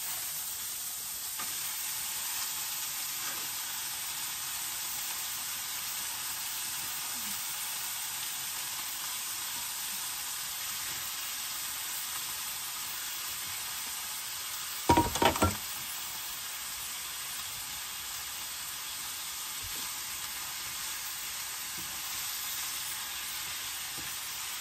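Cabbage stir-fries in a pan with a steady, dense sizzle throughout, broken briefly by a few sharp clatters of a utensil against the pan midway.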